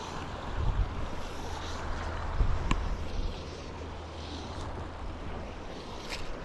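Wind blows outdoors beside the water on a brown trout fly-fishing outing, a steady rushing roar with low buffeting gusts against the microphone, and no voices.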